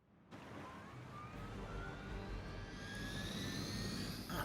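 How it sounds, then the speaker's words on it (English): A helicopter in the video game Midnight Suns, its steady engine roar and whine building and staying loud for several seconds, with no talk over it. "Target the helicopter with attacks to disable it before time runs out"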